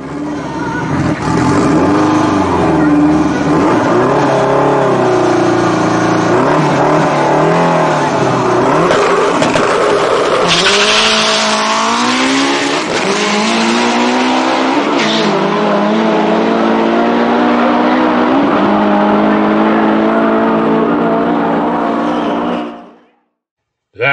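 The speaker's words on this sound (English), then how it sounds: "Minis are often drag raced." A MINI Cooper in a drag race revs hard and accelerates, its engine rising in pitch through several gear changes at close range, loud throughout before cutting off abruptly.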